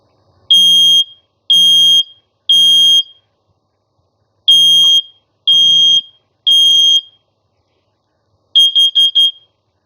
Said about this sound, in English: I want to show the state of the smoke alarm. No blinking or anything. I press the button.